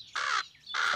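Cartoon birds give two harsh, raspy caws in quick succession, each about a quarter second long and clearly separated, moderately loud with nothing else behind them.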